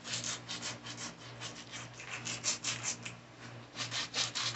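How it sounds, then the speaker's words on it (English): A plastic brush scrubs a sneaker treated with Penguin Instant Sneaker Cleaner: close, steady rubbing in quick repeated strokes with a scratchy bristle texture and no talking. "all I'm doing is scrubbing it with this plastic brush"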